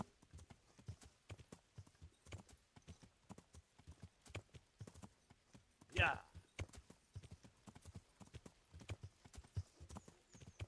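Horse hooves clip-clop in the medieval role-playing game Kingdom Come: Deliverance, a steady rhythmic stream of fairly faint hoofbeats running throughout, with a brief louder whinny-like burst near the middle and someone talking over it.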